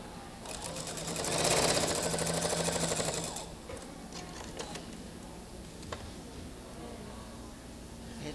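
Sewing machine stitching quilt pieces together, a fast steady run of needle clatter for about three seconds that then stops, leaving quiet handling noises.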